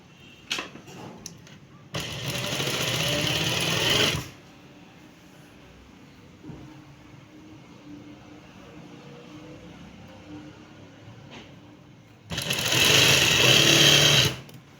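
Sewing machine stitching lace along a crease onto a dress, two loud steady bursts of running stitches with a quiet pause between them.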